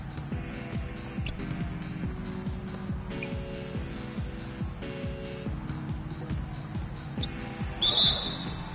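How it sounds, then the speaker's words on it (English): A referee's whistle gives a short, sharp blast near the end of play in a Cavaliers basketball game, following a run of rhythmic ball bounces and arena noise. "So the whistle blows on the shot"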